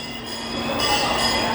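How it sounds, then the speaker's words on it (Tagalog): A small ride-on train at a shopping mall passes with a steady rolling rumble and a few metallic clinks, steady and fairly loud against echoing indoor crowd noise, with voices faint in the background. "Ayan na yung tren."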